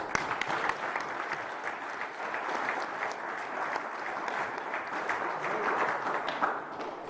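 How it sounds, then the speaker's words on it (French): Sustained audience applause fills a prize-giving ceremony for the 2022 Trophée Job Morvan in Plumelin, a dense, steady wash of many hands clapping at even loudness throughout, with a few sharper individual claps standing out. "C'est maintenant qu'on applaudit, s'il vous plaît"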